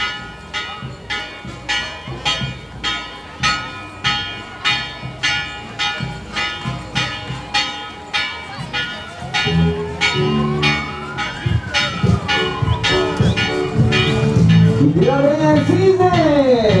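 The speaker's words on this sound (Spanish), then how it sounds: "Ustedes pueden escuchar el sonar de las campanas del templo" Church bells of San Pedro parish ring in a steady, repeated rhythm, loud and close, during a religious procession welcoming the Virgin of El Cisne, with a crowd's voices and singing swelling up underneath toward the end.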